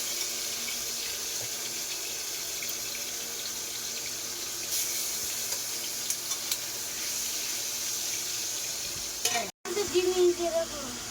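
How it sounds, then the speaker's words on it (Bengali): Magur catfish of about 3 kg frying in hot oil in a home kitchen, a steady close sizzle and hiss running throughout, ending in a brief cut and a couple of short clatters. "এখন ঢাকা চাপা দিতে হবে আর এই মাছটা ভাজতে হবে।"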